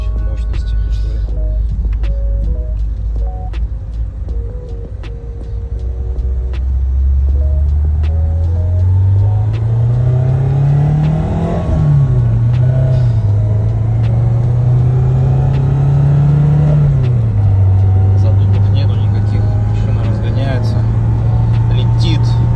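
A Lada Niva Urban engine hums steadily while driving, its loud low drone rising and falling with speed as someone talks over it.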